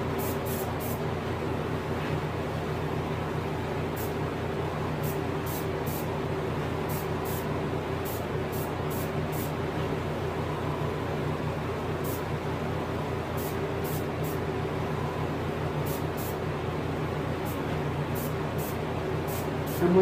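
A steady, soft hiss of an airbrush spraying paint onto a reproduction rainbow trout runs throughout, with a faint rhythmic low pulsing beneath and occasional tiny ticks.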